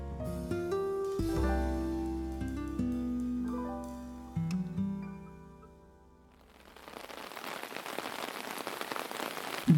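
Steady rain patters on a surface, rising from near silence into a dense, even hiss that fills the second half, following a stretch of tonal music.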